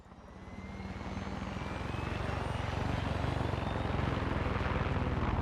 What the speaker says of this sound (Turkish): çok keyifliymiş ya helikopter kullanmak